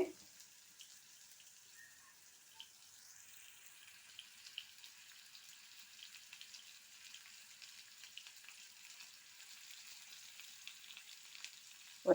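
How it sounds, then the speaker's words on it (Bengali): Potatoes are stir-fried in a kadai while a Bengali fish curry is prepared, a faint, steady sizzle running throughout with a soft clink at the very end. "আলুগুলোকে এইভাবে নাড়াচাড়া করে সুন্দর করে কষিয়ে নিতে হবে"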